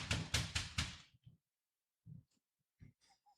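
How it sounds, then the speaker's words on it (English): Knocking on a door in a staged radio play: a quick cluster of four firm knocks up close, followed by a few faint scattered thumps in a quiet room. "Let's knock."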